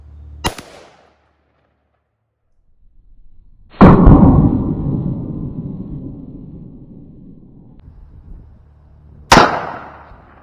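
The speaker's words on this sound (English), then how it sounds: "Up next is going to be a 55 grain full metal jacket 223" An AR-15 fires 55 grain full metal jacket .223 rounds at a dumbbell. Three sharp, loud cracks are heard, with the middle shot trailing off in a long, ringing decay. Nobody speaks.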